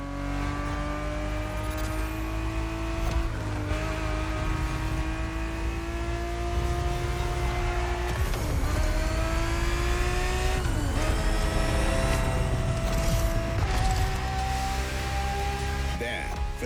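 Ferrari 365 GTB4 racing in The Crew Motorfest, a loud, continuous engine note rising through the revs and dropping sharply at each gearshift over a lap, with tire noise and a voice talking over it.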